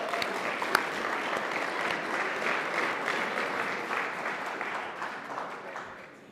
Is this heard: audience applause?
yes